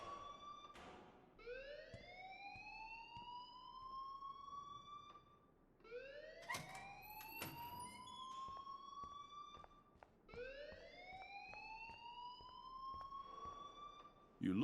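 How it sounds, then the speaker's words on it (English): Alarm ringing in the video game Life is Strange, a loud rising electronic wail repeating three times, each sweep climbing in pitch over a few seconds, with sharp clicks between cycles. "please turn off that alarm since that's your job"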